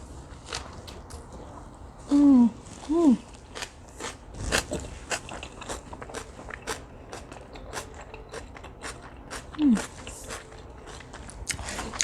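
Close, crisp crunching bites and chewing of a pan-fried catfish taco sound repeatedly, with short hums of pleasure between mouthfuls and no words.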